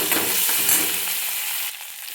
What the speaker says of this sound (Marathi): कढीपत्ता बी आपला असं तळतोय आणि ह्याला चांगलं असं तळून घ्यायचं.